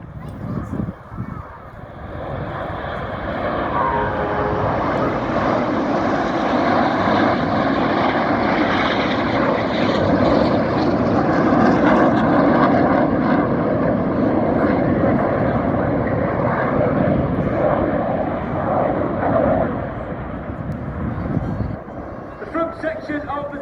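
RAF Red Arrows jets fly a formation display at the Royal International Air Tattoo 2024, their engines building into a loud, sustained roar that swells, holds, and then fades away as they pass.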